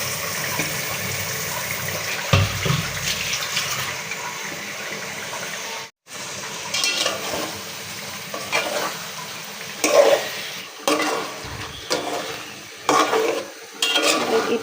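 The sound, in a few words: chicken meat added to spice paste and stirred in pan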